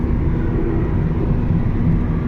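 A car cruising on a highway in Saudi Arabia at about 120 km/h gives a steady, loud, low engine and road drone from inside the cabin, continuous and without speech.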